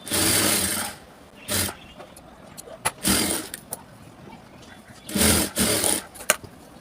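A sewing machine stitches a button placket on a blouse in short bursts of fast whirring, with pauses between runs and a few clicks of handling, fairly close and loud.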